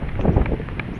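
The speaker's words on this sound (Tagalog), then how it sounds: "Malakas na yung hangin." Strong wind ahead of Typhoon Paolo at a coastal fishing spot: a brief, rough gust buffets the microphone, with uneven rushing and thumping throughout.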